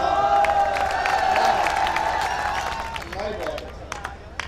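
Applause and cheering rise from the crowd at an All India Mushaira at DNS College in Amroha, dense clapping under excited shouting voices, loud at first and slowly thinning toward the end.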